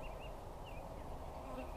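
Honey bees hum steadily inside a hive box during a split, a soft, continuous drone that never lets up, with no talking over it.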